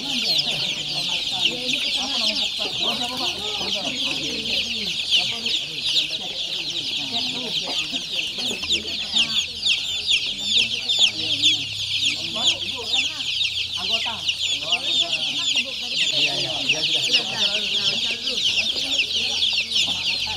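Chickens on a poultry farm cluck and chatter continuously at close range, a busy overlapping flock with occasional louder squawks and no voices on top.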